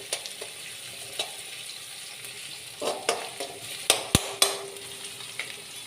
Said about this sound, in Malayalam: ഇനി ഒന്ന് ചെറിയ ഒരു പച്ചമണം മാറുന്ന വരെ ഒന്ന് ഇളക്കി കൊടുക്കാം.